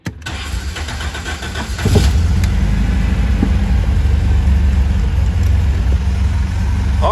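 An MGB sports car with a newly completed exhaust starts up, a brief starter crank giving way to a steady, loud, close idle that rumbles on evenly with no talking.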